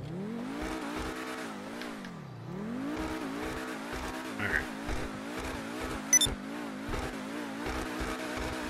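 A car in GTA revs and shifts through gears, engine pitch climbing and falling in repeated sweeps with rhythmic low thumps, a brief tire squeal cutting in near the end, close and steady throughout.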